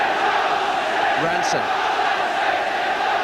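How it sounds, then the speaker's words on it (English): Home crowd at a Manchester City versus Swansea City match in a large football ground, a loud, continuous roar of cheering voices with a brief rising shout midway, under a commentator's voice. "Home crowd raising the atmosphere."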